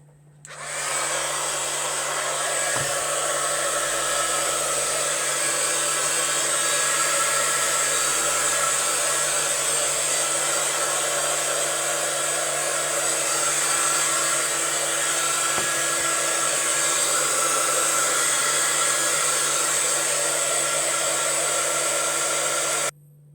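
Heat gun drying a paper collage artwork, blowing with a loud, steady whooshing roar and motor whine that runs continuously for over twenty seconds before switching off.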